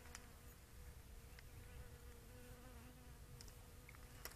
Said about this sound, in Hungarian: Döngik és a méhek, lássátok ki.